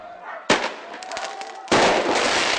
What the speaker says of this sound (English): Bricks, firecrackers and flames filled the night air.